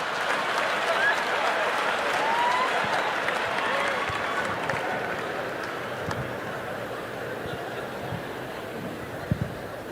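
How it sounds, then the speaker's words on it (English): A comedy club audience claps steadily at a stand-up show, fairly loud at first and then tapering slightly, with a few scattered laughs and chuckles mixed in. "You all just clap for a dead baby."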